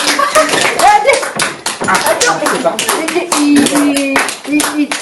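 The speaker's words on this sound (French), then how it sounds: "Regarde, il t'applaudit." Hands clapping in a dense burst of applause close by, with a child's and adults' voices chattering over it throughout.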